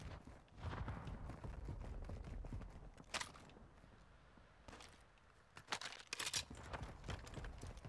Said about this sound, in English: I keep hearing footsteps near me.